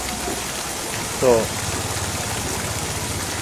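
Heavy monsoon rain pours steadily in Ramgarh Shekhawati, a dense continuous hiss of falling water close by, with a brief spoken word rising over it partway through.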